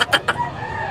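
Chickens at a holiday poultry sale in Grotto, with three quick loud clucks or squawks close by, followed by softer background noise.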